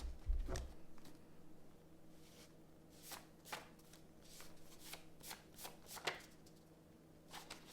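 Tarot cards are shuffled by hand in quiet bursts of riffling and soft slaps, repeated irregularly and heard close and faint with no talking.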